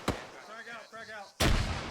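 Frag grenade explosions in the military shooter ArmA 3: a sharp blast opens, a second heavy burst lands later and rumbles on, with a squad member's speech-like sound between the two.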